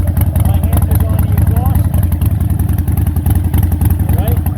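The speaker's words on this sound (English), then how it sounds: "Very nice low mileage bike. Let's start her up." A low-mileage 2017 Harley-Davidson 883 Iron fitted with a 1200 conversion kit, started cold and idling. Its loud, close, steady lumpy rumble runs throughout with a rapid pulsing beat.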